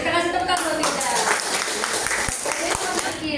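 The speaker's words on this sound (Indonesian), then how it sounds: "Baik, kita kasih tepuk tangan kita." Classmates clap at the end of a student presentation in an Islamic education lesson on inheritance law. The applause is close and fairly loud, and a voice talks over it at the start before the clapping carries on alone.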